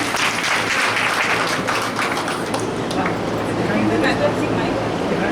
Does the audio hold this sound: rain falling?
no